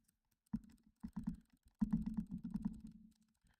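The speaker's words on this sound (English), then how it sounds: "the mouse click triggers" Soft, quick clicking taps in short clusters, close and quiet, as the mouse-click triggers on a SCUF game controller are pressed repeatedly with brief pauses between runs.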